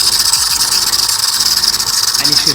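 DeLonghi Dedica espresso machine running with a steady, loud hissing whir and a faint rattling pump buzz underneath, continuous throughout at close range.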